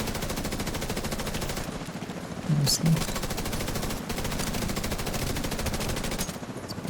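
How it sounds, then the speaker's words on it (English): Rapid automatic gunfire in a video game aimed at a distant helicopter, a dense steady rattle running under people talking, with a couple of louder bursts midway. "I'm gonna shoot at the far chopper."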